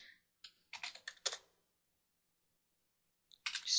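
Computer keyboard typing, entering commands at a Windows XP command line: a quick burst of several key clicks, a pause of about two seconds, then another short flurry of keystrokes, close and fairly quiet with no talking.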